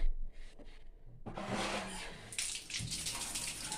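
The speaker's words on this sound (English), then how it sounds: "so we'll wash this one out" Overdyed yellow-and-green fabric is rinsed under running water, which comes on after a second of quiet handling and then runs as a steady close splash, shifting as the cloth is moved about.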